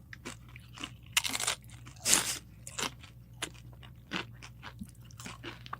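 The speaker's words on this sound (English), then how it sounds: "I like the crunchiness of the chips too" Very thin white corn tortilla chips crunch loudly and close up, with irregular bites and chewing crackles repeating over several seconds and no talking.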